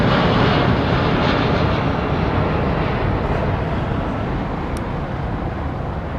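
Airbus A380 airliner at London Heathrow Airport: a steady, broad roaring jet rumble, loud and continuous, slowly easing off slightly as the aircraft passes.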